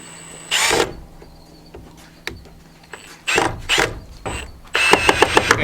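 Short bursts of a power drill whirring on a ranch, separated by quiet gaps, ending with a quick series of rapid pulses as a screw is driven into a pre-drilled hole.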